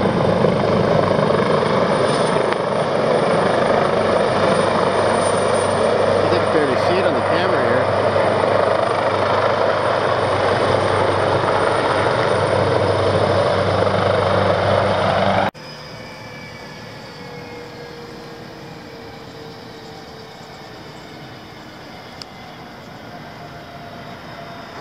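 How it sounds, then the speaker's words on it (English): An emergency helicopter arrives at a hospital, its loud, steady rotor and engine roar filling the air for about fifteen seconds before abruptly dropping to a much quieter, distant drone. "Got the emergency helicopter coming in here to the hospital."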